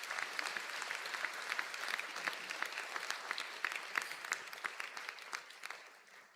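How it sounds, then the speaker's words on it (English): An audience at a college conferring ceremony claps steadily, a fairly faint, even patter of many hands that continues throughout and thins slightly at the end. "I now ask for a round of applause for the students from that category."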